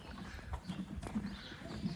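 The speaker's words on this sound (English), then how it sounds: "every Dutch harness horse needs an audience" Hooves of a Dutch harness horse clip-clop in a steady, close rhythm, with a few louder strikes standing out over faint background noise.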